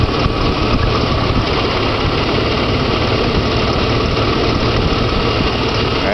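Jeep engine idling on only three cylinders: a loud, close, continuous rumbling drone with an uneven, puttering low-end pulse, running alone and steadily throughout.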